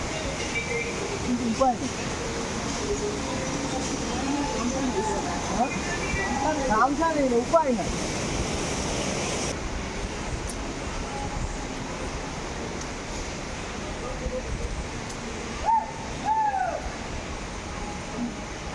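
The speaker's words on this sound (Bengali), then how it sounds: "শুনতে পাচ্ছ তোমরা যে ঝর্ণার আওয়াজটা" Steady rushing water of a waterfall in a forested park at Sittong fills the scene, with people talking over it and brief bird chirps appearing now and then.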